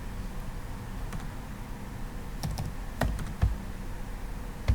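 Typing on a computer keyboard while filling in a company name on a website sign-up form, with sparse, irregular key taps and a few sharper strokes over steady low background hum, no talking.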